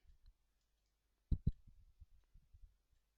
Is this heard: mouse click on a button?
yes